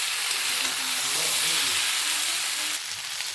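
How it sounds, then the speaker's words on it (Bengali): Vegetables, including drumsticks, fry in a pan over a raised gas flame, giving a loud, continuous broadband sizzle that eases slightly near the end, with no one speaking. "এখন আমি গ্যাসের আঁচ বাড়িয়ে দিয়েছি আর সবজিগুলোকে একটু ভাজা ভাজা করে নিচ্ছি"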